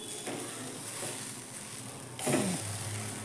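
Grated dried coconut roasts in a pan with a steady soft sizzle and light scraping as it is stirred, followed by a louder scrape near the end.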